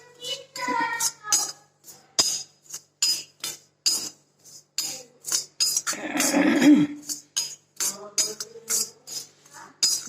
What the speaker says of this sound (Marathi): आता हे का हे भाजून घ्यायचं चांगलं खमंग